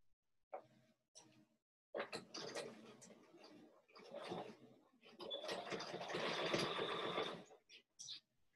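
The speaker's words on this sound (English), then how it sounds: "I just take it straight to the machine and just sew away." Domestic sewing machine stitching down quilt binding in a sewing room, running in several bursts of steady whirring with short pauses between, the longest stretch lasting a few seconds and growing slightly louder.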